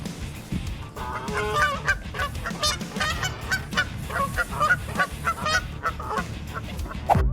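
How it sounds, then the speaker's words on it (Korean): Geese honk loudly and almost continuously in harsh, overlapping calls, heard up close as squabbling animals clash, with no talk over them. "이런 영상들을 많이 보시게 되면 거위들은 확실히 괴롭히는 애들이다"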